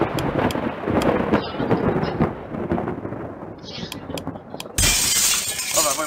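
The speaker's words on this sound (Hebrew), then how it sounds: "מה אני שומע רעמים?" Thunder in a Roblox game heard as a rumbling, crackling storm with sharp snaps and rain-like hiss, ending in a sudden loud bright crash, while people talk over it.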